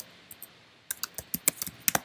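Keys clatter on a computer keyboard, a couple of sparse taps followed by a quick, uneven burst of crisp, close clicks.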